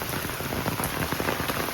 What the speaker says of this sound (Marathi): पाऊस खूप जोरात सुरू झाला ना